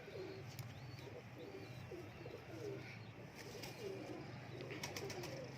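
Pigeons coo in soft, repeated throaty phrases on a pigeon farm in Pakistan, several calls spaced evenly over a faint background murmur, close and gentle with no talking.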